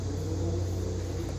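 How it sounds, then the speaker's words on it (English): A car engine rumbles in the background, a low, steady drone that holds at moderate volume throughout, with no voices over it. "Loud engines all throughout this video."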